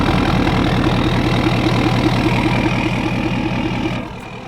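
A pickup truck's engine idles steadily after a remote start, a loud, close, rhythmic low chug that holds even, then drops in level near the end.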